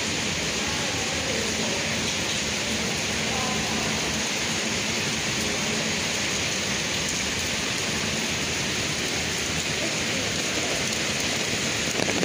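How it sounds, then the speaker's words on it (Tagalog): Heavy rain pours down steadily as a dense, loud hiss that stays unbroken throughout. "ulan jud kaayo."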